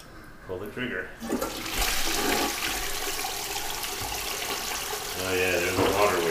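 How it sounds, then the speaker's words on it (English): A toilet flushes with a loud rushing whoosh of water that swirls and drains steadily, a brief voice heard near the start and end. "And a crappy flush on top of that."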